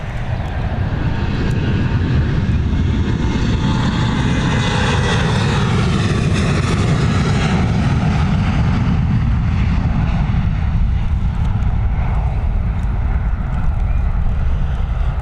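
A Transavia airliner taking off, its engines roaring loud and steady with a broad rumbling wash that swells and slowly shifts in tone as it climbs away.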